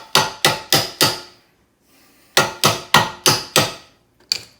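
Front suspension bush on a 1958 Triumph TR3 driven through with a large socket, heard as two bursts of sharp, ringing hammer-like blows, four then five evenly spaced, with a short quiet gap between and a final single knock.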